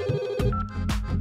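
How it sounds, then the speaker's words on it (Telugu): A phone rings with a short electronic ringtone, loud and close, a quick melodic burst repeating twice within a second or so, with nothing else around it. "రింగ్ అవుతుంది."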